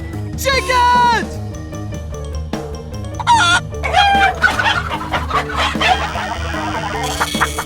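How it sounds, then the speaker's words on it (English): Chickens cluck and a rooster crows as a sound effect in a Resident Evil 2 fight, loud bursts of squawking over background music and game noise. "Chickens!"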